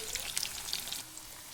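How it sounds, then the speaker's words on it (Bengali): Potato pieces frying in hot oil while being browned for a home-cooked Bengali curry. The sizzle is faint, a soft, steady crackle with scattered pops that eases off toward the end. "তেলের উপর আমি একটু লাল লাল করে ভেজে নেব"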